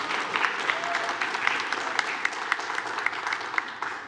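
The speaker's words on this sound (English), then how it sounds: "Just give her a round of applause" A church congregation claps for a volunteer during a Mothering Sunday sermon, a moderate, continuous patter of many hands with a few sharper individual claps standing out, filling the room throughout.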